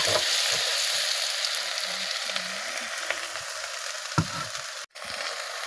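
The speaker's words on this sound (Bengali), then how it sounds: "মশলাটা আমার ভাজা ভাজা করা হয়ে গেছে।" Spices frying in a pan for a sweet-sour olive pickle, a continuous close sizzle with occasional stirring clicks, briefly cut off near the end, no voices.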